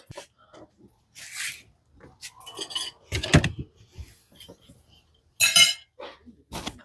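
Spoons and forks clink together while tableware is handled on a barbecue day, with a few scattered bright metallic chinks and clatters close by and some quiet voices in between.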